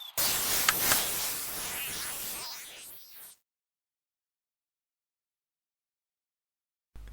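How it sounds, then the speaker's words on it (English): Dense radio static hiss from a broadcast in a sci-fi audio drama, loud and steady for about three seconds, then thinning and cutting out abruptly into silence. "the static is burnt out, but signals don't die"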